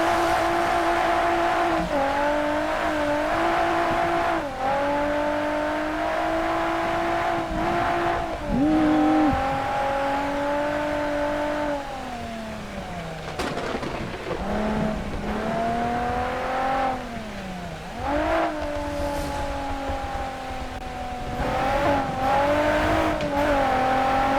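Drifting car in the racing game Japanese Drift Master, likely a Mazda MX-5, its engine revving and shifting pitch continuously with tire squeal, loud and steady throughout with no talk.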